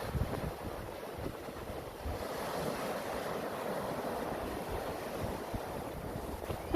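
Sea waves wash continuously onto a shoreline where the tide is coming in, a broad steady surf hiss with wind buffeting the microphone, with no voices over it.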